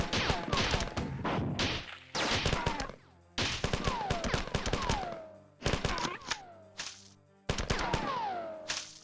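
MA75 rifle fire in the video game Marathon rings out in several rapid automatic bursts separated by short pauses, loud and close, with ringing tonal effects trailing each volley.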